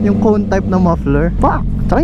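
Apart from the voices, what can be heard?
No everyday noise stands out behind the speech.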